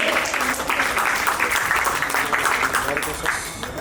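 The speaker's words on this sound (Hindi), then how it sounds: "जोरदार तालियां यीशु के लिए" Dense applause from a crowd at a 75th birthday celebration, steady and loud, with voices mixed in beneath the clapping.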